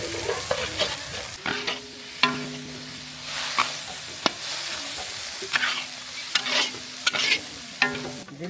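Ginger and garlic fry in hot oil for a silver carp fish curry: a constant sizzle with repeated scraping stirs knocking against the pan at close range.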